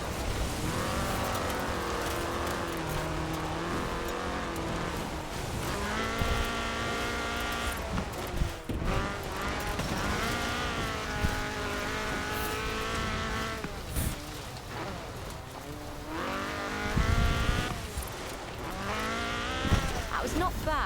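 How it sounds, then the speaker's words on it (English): Rally car with a fuel-injected 1790cc Cosworth BDE engine in Forza Horizon 4, its engine revving up and down through repeated gear changes with tire squeal, under occasional talk. "This was a car designed explicitly for rallying, with a powerful fuel-injected 1790cc Cosworth BDE engine."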